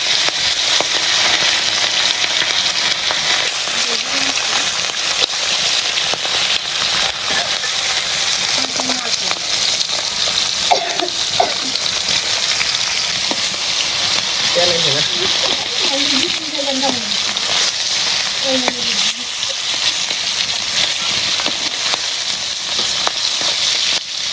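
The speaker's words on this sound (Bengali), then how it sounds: "তেল গরম হয়েছে মাছগুলো দিয়ে দিই" Fish fry in hot oil in a village kitchen, a dense, steady hiss and sizzle that lasts the whole time, with faint voices now and then beneath it.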